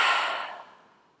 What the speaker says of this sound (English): Exhaling out any emotion,